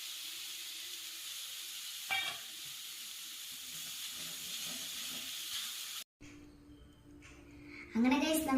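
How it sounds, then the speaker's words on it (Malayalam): Egg frying in a pan with chopped drumstick leaves, a steady hiss and sizzle that drops out briefly, then returns under a speaking voice. "ചട്ടിയുടെ നടുവിൽ ഒരു കുഴി കുഴിച്ച് അതിലേക്ക് മുട്ട ഒഴിച്ച് കൊടുക്കാം"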